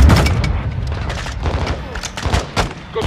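Grenade launcher rapid fire in the Call of Duty Modern Warfare 2 prison break campaign, with a dense run of loud, sharp blasts and booms close by, mixed with shouted voices.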